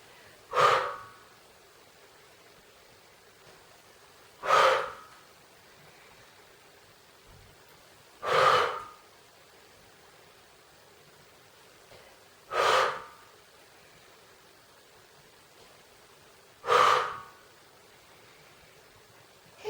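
Slow yoga breaths drawn in through the nose, five distinct inhalations spaced about four seconds apart, close and clear against a quiet room with no talking.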